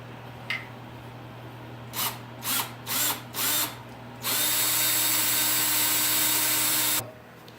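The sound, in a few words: power drill drilling screw holes in cart supports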